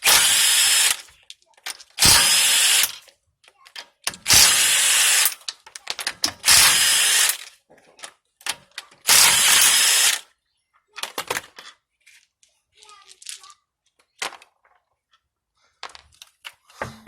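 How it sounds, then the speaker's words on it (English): Ratchet wrench loosening a 17 mm key-lock lug nut on a 2013 Mini Cooper Countryman, heard as several loud bursts of rapid clicking pawl action separated by short pauses, followed by quieter scattered clicks and handling noises. "take off our special lug nut, or our key lock lug nut"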